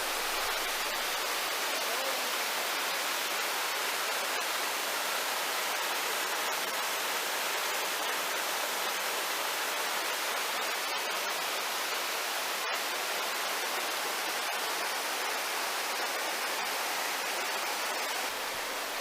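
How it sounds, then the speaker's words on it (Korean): Mountain stream water rushes without a break upstream of the eighth bridge in Sibiseonnyeotang valley, a dense, even hiss that holds steady throughout. "12선녀탕 계곡을 건너는 8번째 다리 상류 쪽의 물줄기입니다."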